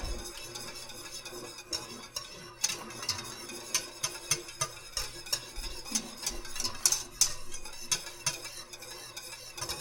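A bubbling mixture being stirred in a pot, with repeated spoon scrapes and clinks falling in an uneven rhythm over a soft simmer, fairly quiet and close with no talking.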